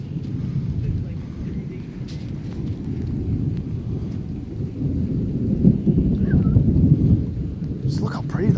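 A thunderstorm rumbles on through lightning strikes, with continuous low, heavy rolling thunder and a rain-like wash filling the air, steady and fairly loud throughout with no clear break.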